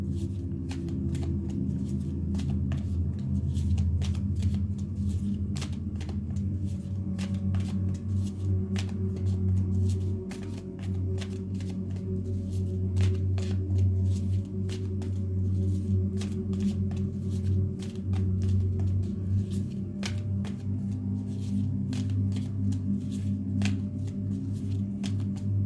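Oracle cards are shuffled by hand in a long, steady stream of soft papery riffles and flicks, close and continuous over a low background hum.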